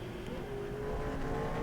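A race car engine in NASCAR Racing 2003 climbs through the gears, a faint, steady droning tone that holds and then rises slightly in loudness as it pulls uphill.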